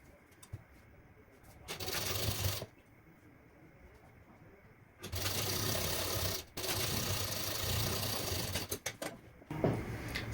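Sewing machine stitching a princess cut blouse, running in two longer bursts of fast, even whirring separated by quiet pauses, with a short final spurt, close and fairly loud without speech over it.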